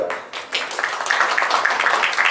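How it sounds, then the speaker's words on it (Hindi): Audience clapping for the Atrangii team at an OTT platform launch show, a dense, steady burst of applause that swells and holds at close range, with no talk over it. "ये अतरंगी की टीम है उनके लिए जरा तालियां बजाओ यार"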